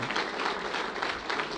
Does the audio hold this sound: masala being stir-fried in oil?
no